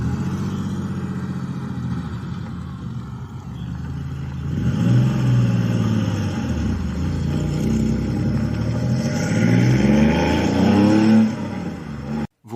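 A Porsche 911 engine revving loudly and steadily, its sustained roar rising and falling in pitch with a surge partway through before cutting off abruptly at the end.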